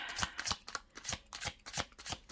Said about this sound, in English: let's do another shuffle here